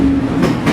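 A train runs steadily on tracks near Hirosaki, Japan, with a continuous low rumble and wheel noise that swells slightly toward the end, loud and close throughout.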